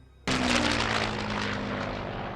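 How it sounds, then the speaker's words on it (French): An airplane in the film Jaws 3 bursts in suddenly as a loud engine roar, then holds as a dense, steady drone with a low humming tone underneath. "C'est un avion. C'est définitivement un avion."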